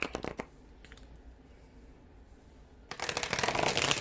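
Tarot cards riffled and shuffled by hand, with a few quick bursts near the start, a quieter stretch, then a loud, continuous shuffle toward the end.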